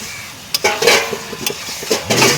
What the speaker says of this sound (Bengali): মাংস কষা হয়, চিকেন কষা।